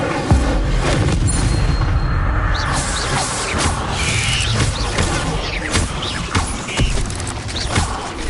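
Incendio fire spell blasts in Hogwarts Legacy, a series of booming, crackling bursts over a loud continuous rumble of combat effects, with sharp impacts spaced throughout.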